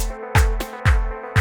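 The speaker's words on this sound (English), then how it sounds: "this is the clap. And it sounds like this." Layered clap sample in FL Studio for an Afro tech track, playing four sharp, loud hits at a steady, spaced rhythm over a sustained tonal backing, with no voice.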